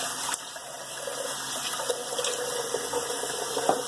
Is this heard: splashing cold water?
yes